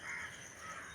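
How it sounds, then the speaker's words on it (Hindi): Crows caw in a village before dawn, a faint, steady background chorus of birds with no voices over it. "कौवा बोल रहे हैं, क्योंकि नहाने के पहले भी बोलने लगे थे"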